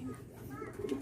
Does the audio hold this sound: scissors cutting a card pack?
no